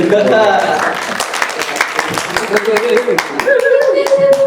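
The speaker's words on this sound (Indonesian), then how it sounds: "Tepuk tangan dong." An audience claps at a local political talk in Blitar, with a burst of uneven hand claps over steady talking and a few chuckles.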